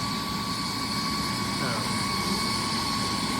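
A hospital medivac helicopter runs with a steady whirring rotor drone, moderately distant and continuous, while someone talks over it.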